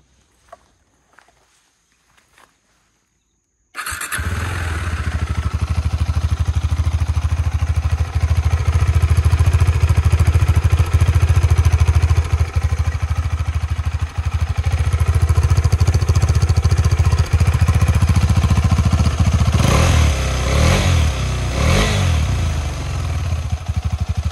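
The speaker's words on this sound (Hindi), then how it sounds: "इंजन का स्टार्ट करने से पहले मैं आपको इस बाइक के इंजन का साउंड सुना देता हूँ" After a few quiet clicks, a KTM 390 Adventure motorcycle engine fires up and idles loudly close by, then revs twice near the end.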